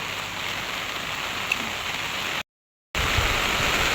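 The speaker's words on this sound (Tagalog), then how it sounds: "Malakas po yung ulan." Heavy rain pouring down in a rural tropical area where coconuts are being gathered, a thick steady roar of drops that fills everything, broken by a brief dropout before the downpour resumes just as loud.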